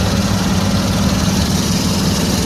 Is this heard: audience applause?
no